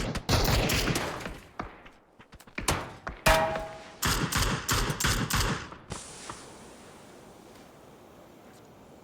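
A player fires at an opponent in a competitive video game, with rapid clustered volleys of gunfire over several seconds before things settle into a faint, steady hiss.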